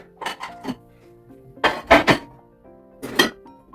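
Dishes and pots clatter and clink in a few bursts, close by, with short quiet gaps between the knocks of crockery.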